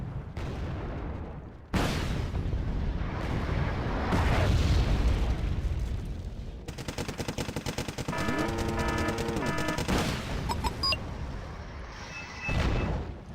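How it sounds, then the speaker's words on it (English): Recoilless rifles firing in the video game Wargame Red Dragon: a string of loud booms and bursts of gunfire rolling over a noisy battlefield, with rapid crackling fire through the middle of the stretch. "I got a Unitot team firing recoilless rifles at the enemy"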